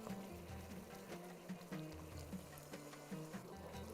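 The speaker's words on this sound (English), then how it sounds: "I'm going to add more water." Water is poured into a cooking pot of Bahraini halwa with saffron, a faint, steady trickle and splash with some low rumbling underneath and no talking.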